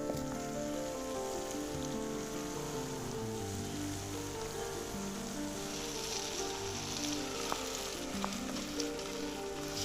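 Taki fish sizzling steadily in a frying pan, a dense, even crackle that holds for the whole stretch with a soft tonal layer underneath.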